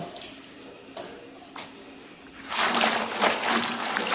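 Wild leafy vegetables washed by hand in salt water, with quiet sporadic trickles for the first few seconds, then a louder, continuous splashing and sloshing close by.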